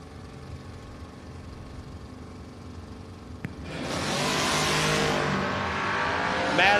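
Drag race cars launching at a drag strip, one a third gen Camaro, a loud engine roar surging up midway after a quieter idle, sustained and close.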